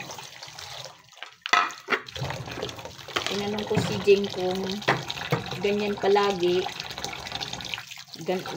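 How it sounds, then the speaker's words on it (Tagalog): Strong water gushing from a tap after the supply returns, a loud continuous rush that starts after a brief lull and carries on under someone talking. "Ngayon meron na, malakas. Malakas yung agas."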